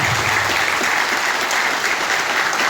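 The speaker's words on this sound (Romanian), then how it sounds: "Să știi că am mare încredere și să-l aplaudăm." Dense, steady applause from an audience for a newly elected village mayor in Romania, loud and sustained throughout with no pauses, a full crowd clapping together close by.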